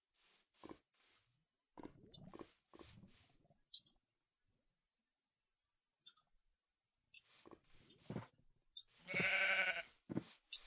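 Several short sheep bleats from Minecraft, clipped and repeated in bursts with quiet gaps between, the last one longer and louder, close and alone.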